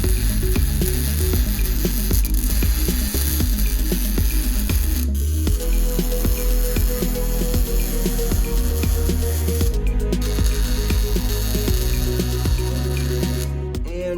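A welder lays beads on stretch tabs for a Motovox minibike, making a continuous close crackling sizzle that breaks off briefly a few times before starting again.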